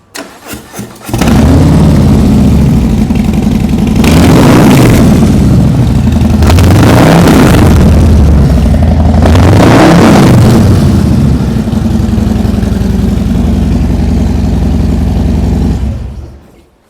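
A 2022 Harley-Davidson Low Rider S with a 117 cubic-inch (1,923 cc) engine cranks and fires up, then rumbles loudly at idle with three sharp revs in the middle before settling and shutting off.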